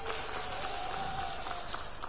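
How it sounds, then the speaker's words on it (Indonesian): Steady applause from an audience at a stand-up comedy show for Indonesia's Ministry of Finance tax directorate, a dense, even wash of clapping sustained throughout without a break. "Tepuk tangan buat Kementerian Keuangan."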